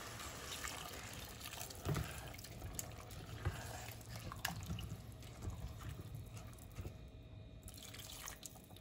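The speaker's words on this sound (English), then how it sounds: "Next, add the water." Water poured into a cooking pot for a lentil stew, a soft continuous trickling and splashing, faint and close, with a few small clinks.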